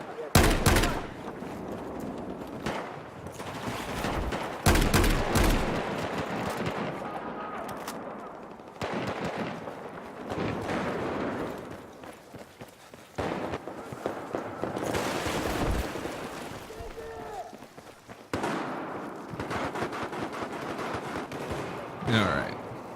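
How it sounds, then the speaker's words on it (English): Shotgun fire in Battlefield 4 Gunmaster, repeated loud booming blasts at irregular intervals amid continuous battle noise, close and dense throughout the clip. "Oh, this is a shotgun."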